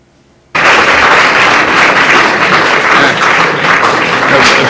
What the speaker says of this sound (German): es gibt da davor und danach Applaus, darum kann es sein, dass es jetzt ein bisschen laut ist am Anfang